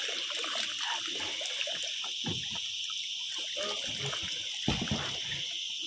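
Water running or trickling steadily outdoors in a rural Philippine setting, a continuous hiss beneath voices talking intermittently nearby.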